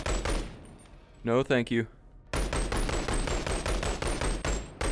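Gunfire in the VR shooter Boneworks crackles as a rapid run of sharp shots that fills most of the stretch, broken by a brief spoken phrase partway through.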